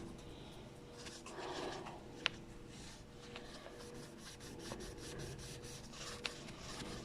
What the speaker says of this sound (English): I'm going to take my board eraser now, and I'm just going to take all that off of there